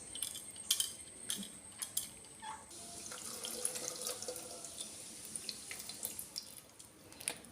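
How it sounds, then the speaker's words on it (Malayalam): Tamarind water is squeezed and poured onto vegetable pieces for Kerala-style sadya sambar, giving close, quiet splashing and trickling with a few drips and light clinks of a vessel, no talk. "ഇനി ഇത് നന്നായിട്ട് പിഴിഞ്ഞിട്ട് ഈ പുളിവെള്ളം നമുക്ക് ഈ കഷ്ണങ്ങളിലേക്ക് ചേർത്ത് കൊടുക്കാം"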